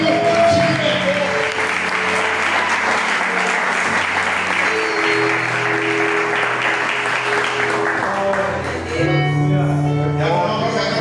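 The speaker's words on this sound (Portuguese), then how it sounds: "Aplaude e glorifica Ele." A church congregation claps steadily through a Sunday service while sustained music tones and chords play underneath, loud and continuous, with a brief dip near the end.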